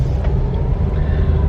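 A 2009 Toyota Corolla Altis with a 1.8-litre engine drives along with a steady low cabin rumble and road noise, loud and continuous throughout.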